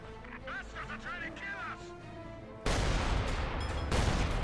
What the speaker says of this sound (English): Shells are firing now.